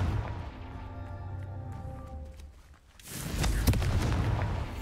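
A Confringo blasting spell explodes in Hogwarts Legacy, a sudden loud fiery burst that follows a quieter stretch of tonal magical shimmer and then lingers as a rumbling, crackling roar.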